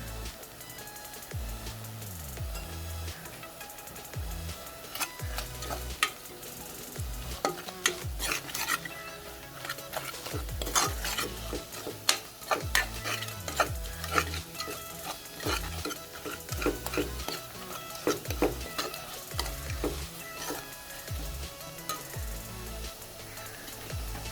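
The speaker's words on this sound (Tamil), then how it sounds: "இப்போ எடுத்து வச்ச மசாலா எல்லாத்தையும் சேர்த்துடலாம்" Masala spices frying in a pan for channa rice, stirred steadily with a spoon, with a constant sizzle and repeated scraping strokes and occasional utensil clinks, close and continuous without talk.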